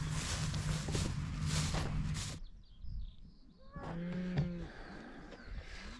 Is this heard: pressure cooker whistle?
no